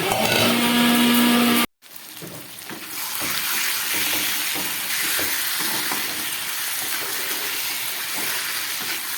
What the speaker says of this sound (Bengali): একটা মশলা আমি তৈরি করে নিচ্ছি চলুন এটাকে পেস্ট করে নিই